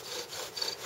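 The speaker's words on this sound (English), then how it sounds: "so I had to reshape the spindle" Sumac bow drill spindle being reshaped, a steady rasping scrape of blade on wood for under a second with slight strokes and no talk, heard close and moderately loud.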